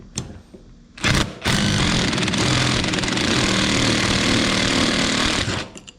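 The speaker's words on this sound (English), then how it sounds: "then I'll use my impact drill to kind of work it out" An impact drill hammers out a bolt on a KDX200 motorcycle, a loud sustained rattling burst lasting several seconds after a short initial blip, then stopping.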